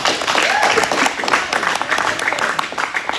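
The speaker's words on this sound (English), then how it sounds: "let's clap it up for Nathan" A group claps for a new young team member during outdoor team training at Regent's Park, the applause dense and steady for its whole length with faint voices mixed in.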